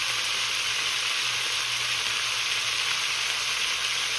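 Beef searing in a very hot pot, a loud, dense, continuous sizzle held close and steady throughout with no talk.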